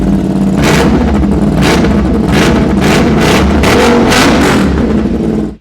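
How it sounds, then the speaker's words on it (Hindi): A 2024 Aprilia RS 457 motorcycle with a full aftermarket exhaust system revs loud and close, firing off about seven sharp throttle blips over a steady, raspy idle. "ये इंडिया की सबसे लाउडेस्ट एप्रिला होने वाली है"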